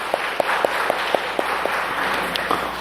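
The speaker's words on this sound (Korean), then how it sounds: "영광의 박수를 주님께 돌리십시다" A church congregation applauds during a Sunday sermon, a steady bed of clapping from many hands with a few louder, closer claps standing out in an irregular rhythm.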